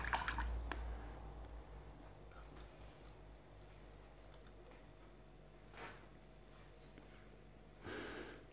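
Faint, sparse sounds of a baby animal drinking water: soft drips and little snorts near the start and end, with quiet stretches between and no speech.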